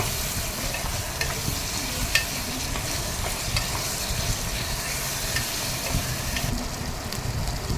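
Split pigeon pea pulusu being cooked: onions frying in oil in a pan while being stirred, a steady loud sizzle with scraping of the stirring spoon, close and continuous, with no voices.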